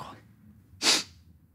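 A single short, forceful cough bursts out about midway, after a moment of faint breathing, then fades back to quiet room tone.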